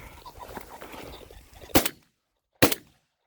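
Two loud, sharp shotgun blasts on a pheasant hunt ring out about a second apart, following a stretch of rustling outdoor noise; silence after each shot.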